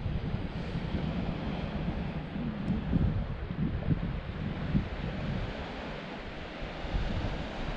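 Wind and surf at a small beach below cliffs in northwest Ireland: a steady, full roar of breaking waves mixed with gusty wind buffeting the microphone, continuous throughout with gentle swells in loudness.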